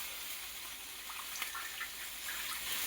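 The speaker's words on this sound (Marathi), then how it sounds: "आता हे आपल्या बोंबीलमध्ये मी गरम गरम आहेत तोपर्यंतच पाणी टाकून घेते" Hot water poured over roasted dried Bombay duck fish, a soft, steady close-up trickle and splash lasting a few seconds, faint and alone.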